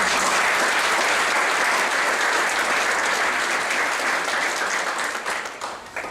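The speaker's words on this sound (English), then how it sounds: "Please give them another round of applause." Sustained, loud audience applause fills a university reunion banquet hall, a dense wash of clapping that holds steady and then begins to thin toward the end.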